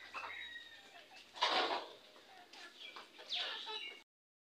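Chickens being fed rice by hand cluck in short, close bursts, several fowl answering one another over a few seconds, with faint background noise and almost no talk.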